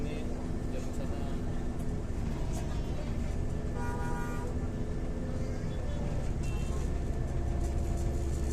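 Steady, loud Jakarta street traffic with a bus rumbling past nearby, and a brief horn toot partway through.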